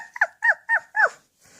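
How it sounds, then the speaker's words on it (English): Cartoon baby puppy amoebas from SpongeBob let out four quick, high-pitched squeaky barks in a row, cute and close, then a faint hiss. "they make this really cute barking noise"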